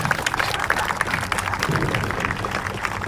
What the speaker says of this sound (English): Let's give a big another round of applause to all the puppies and UPD.